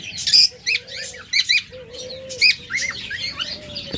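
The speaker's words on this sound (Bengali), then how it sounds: "চমৎকার এই মাস্টার পেয়ার ককাটেল জোড়াটা" A pair of big master-pair cockatiels chirps in short bright bursts, several tweets clustered together with brief pauses, fairly close, and a faint steady whistle-like tone runs beneath them.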